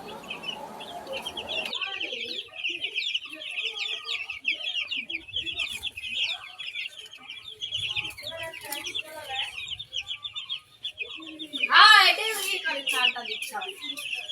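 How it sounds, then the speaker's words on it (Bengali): Many chickens cluck and chirp continuously at a poultry farm, a dense close flock chorus with one louder burst near the end, while a person speaks over them. "এটা আমার মুরগির খামার।"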